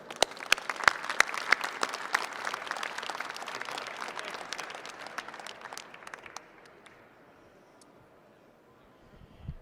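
An audience applauding at a lobby day program, a burst of many hands clapping that holds for several seconds and then fades away to near quiet.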